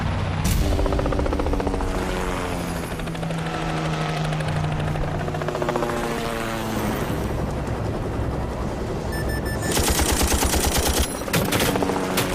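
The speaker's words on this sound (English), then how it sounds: "They're firing at us?" Loud gunfire crackles in bursts through an action creature-movie scene, layered over a helicopter's throbbing rotor and dense soundtrack, with sharper rapid automatic volleys near the end.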